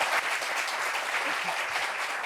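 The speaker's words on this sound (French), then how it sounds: "Applaudissements" A studio audience on a French television dating show claps to welcome a guest, a brief, moderately quiet patter of applause.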